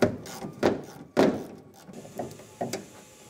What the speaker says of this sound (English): using a 10 millimeter socket, we're going to loosen the clamp for the filler neck tube